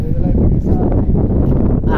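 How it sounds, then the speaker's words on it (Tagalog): Strong wind buffeting the microphone outdoors, a loud constant low roar with rumbling gusts filling the whole stretch. "medyo malakas ang hangin."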